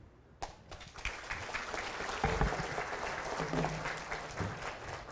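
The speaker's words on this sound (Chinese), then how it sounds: "我们再次以热烈的掌声谢谢徐老师" Warm applause from an audience thanking a lecturer after a talk at a training session, steady clapping from a room of people, moderately loud and continuous after a sharp start.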